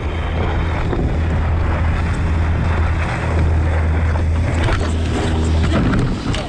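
A boat passes close by on open water: a steady low engine drone runs through, with wind buffeting the microphone and waves washing around it, loud and continuous.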